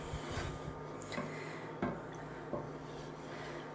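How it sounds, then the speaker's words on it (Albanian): A wooden spoon stirs a pot of prepared mixture on a lit hearth for a traditional Ramadan dish, giving soft, faint scrapes and a few light knocks against a quiet background. "E marrë lugën e drurit për t'i trazuar."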